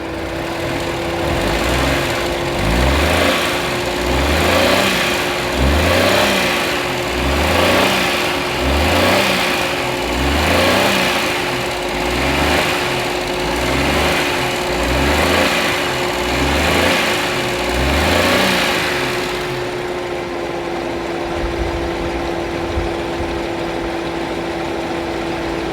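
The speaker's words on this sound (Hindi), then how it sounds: "अभी हम करेंगे गाड़ी को स्टार्ट और देखेंगे इंजन का साउंड" A used car's cold engine is started and left idling, a loud, close mechanical drone with a regular pulsing rhythm of gentle revs that cuts off near the end, leaving quieter background; no voices.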